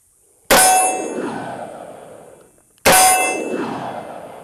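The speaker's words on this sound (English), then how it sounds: "And now I'll be shooting the Taurus Tracker just for comparison, 357 Magnum, very powerful round." A Taurus Tracker revolver fires .357 Magnum rounds: two loud, sharp shots about two seconds apart, each with a metallic crack followed by a long, fading ring.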